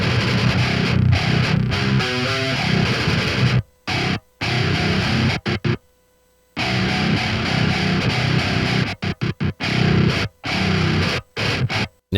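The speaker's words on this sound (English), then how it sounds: "Let's first take a listen to the unprocessed DI signal chain here with the distortion." Heavy distorted electric guitar chugging palm-muted metal riffs from an unprocessed DI signal, with abrupt stops and short silent gaps between bursts, loud and close.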